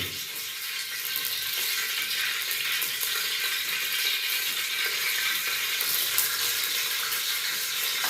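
Ingredients hitting hot oil in a well-heated pan, cooking breakfast for grape-harvest workers, give a steady, close, broadband sizzle that holds evenly throughout with no talk over it.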